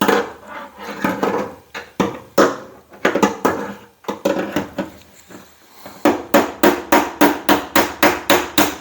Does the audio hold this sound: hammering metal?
yes